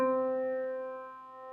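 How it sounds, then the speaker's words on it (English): One sustained middle C struck on a piano, a clear single note that rings steadily and slowly fades, heard alone. "we have a note called middle C."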